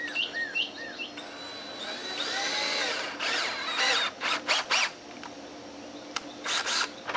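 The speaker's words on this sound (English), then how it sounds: "I'm driving big screws." A power drill drives big screws in several bursts, revving up and stopping repeatedly, with short pauses and faint chirps between runs.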